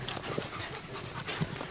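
Andalusian podenco hunting dog pants rapidly in the field, fast even breaths at low level with faint rustles and no voices.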